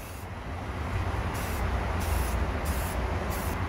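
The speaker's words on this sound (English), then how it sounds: "So I've got it all taped off and we're gonna paint it." An engine bay of an 1988 Honda Civic Wagon is taped off and spray painted. Close, loud hissing sprays come in repeated short bursts over a continuous low rumble, with no talk.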